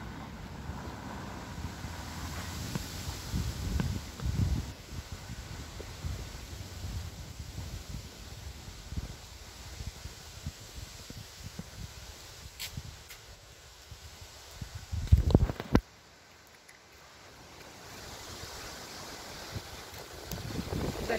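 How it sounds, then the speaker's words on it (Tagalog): Gusty wind buffets the microphone in uneven bursts, with a sharp loud thump partway through, over a low steady outdoor rumble. "Ang lakas ng hangin."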